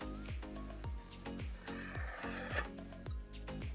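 Near, quiet scratching as a pencil is drawn along a straight edge to mark a cutting line on scrap wood, with a few rubbing strokes over a low hum.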